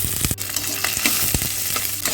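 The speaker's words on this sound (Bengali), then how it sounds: "কড়াইতে সর্ষের তেল দিয়ে দিচ্ছি, কালো জিরে, শুকনো লঙ্কা দিয়ে দিলাম, রসুন আর কাঁচা লঙ্কা দিয়ে দিলাম" Nigella seeds, dried red chilli and garlic crackle and sizzle in hot mustard oil in a kadai, a close, lively frying hiss with sharp spatters and stirring clatter.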